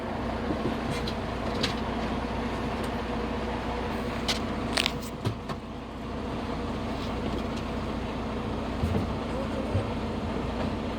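A semi truck idles steadily during an air brake check. The low, even drone runs throughout with a few faint clicks and knocks.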